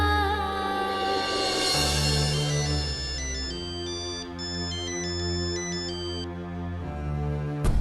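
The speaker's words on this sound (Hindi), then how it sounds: "कुमुद मामी, उनको फोन करती हूँ।" A phone ringtone plays continuously as a looping electronic melody, steady and fairly loud with no talking.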